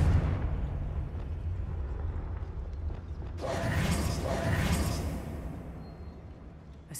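A Confringo blasting-spell explosion in Hogwarts Legacy, a sudden loud burst with a roaring, crackling tail that swells and then fades over a few seconds over a low background rumble.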